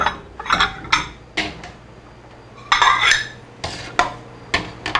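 Dishes clatter as a bowl is set onto a jar of soy-sauce-pickled wild peaches to press them down, with several sharp ceramic and glass knocks and scrapes, loud and close, separated by short pauses.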